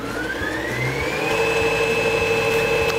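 Baby Lock Sashiko sewing machine running on its foot pedal, a steady mechanical whir that rises in pitch as it speeds up, then holds at an even pace with a rapid stitching rhythm.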